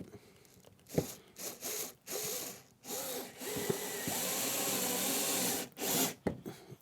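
Cordless screwdriver driving a screw into a pre-drilled hole in wood, short bursts of motor whirr followed by a longer sustained run, with scraping handling noises between, close and fairly quiet.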